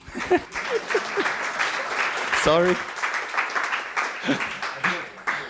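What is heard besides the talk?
audience applause at a talk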